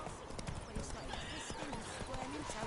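Horse hooves clip-clop steadily on the ground in The Witcher 3, a close, regular trotting rhythm running the whole time while a voice speaks over it.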